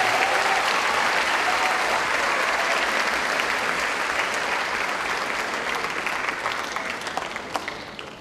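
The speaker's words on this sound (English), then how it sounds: "let's give a big round of applause to all of our students being promoted this evening" Loud, sustained applause from an audience at an evening student promotion ceremony, steady dense clapping filling the room for several seconds before thinning slightly at the end.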